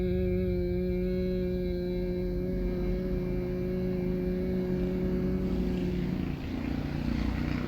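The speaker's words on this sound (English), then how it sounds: "on the exhalation you're gonna do a humming sound" During a hatha yoga breathing exercise, a person hums with the mouth closed on a long exhale, holding one steady, close, buzzing drone for several seconds.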